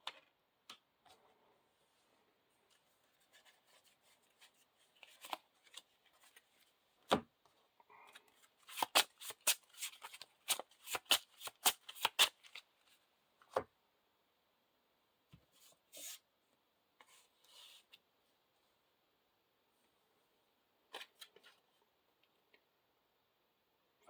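A deck of playing cards for the Lord of the Rings card game is shuffled by hand, with a quick burst of crisp riffling clicks midway. Sparse light taps and card handling come before and after in an otherwise quiet room.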